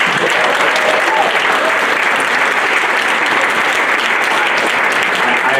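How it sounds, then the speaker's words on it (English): Loud, sustained applause from an audience at a business networking mixer, a thick continuous roar of clapping that holds steady from start to finish. "I appreciate the applause"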